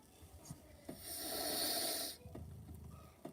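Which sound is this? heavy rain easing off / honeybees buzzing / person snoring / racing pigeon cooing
person snoring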